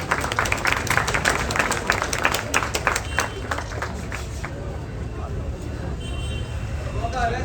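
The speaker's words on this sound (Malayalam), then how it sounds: "നിറഞ്ഞ കൈയടികളോടെ അദ്ദേഹത്തെ നമുക്ക് സ്വാഗതം ചെയ്യാം." An audience applauds to welcome Suresh Gopi onto the stage at a public event, a dense burst of hand clapping over the first few seconds that thins out and fades into background murmur and room noise.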